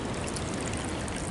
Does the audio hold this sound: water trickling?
yes